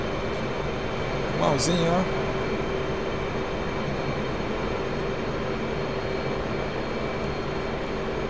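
F/A-18C jet engine during a carrier landing in the DCS flight simulator, a steady broadband roar that holds at constant loudness throughout, with a brief voice speaking near the start.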